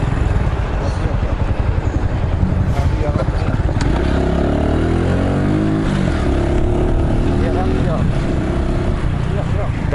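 A car passing along a busy street, its loud engine rumble swelling and fading over constant traffic noise, with a motorcycle-like tone and people talking nearby.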